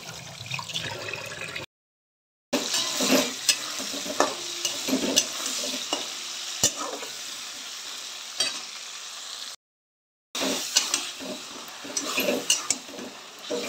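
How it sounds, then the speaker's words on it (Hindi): A spoon stirs and scrapes chicken and spices in a sizzling pan, with steady frying and clinks of utensils broken by two brief silent gaps. "मसाले के साथ मिक्स करेंगे फ्रेंड्स"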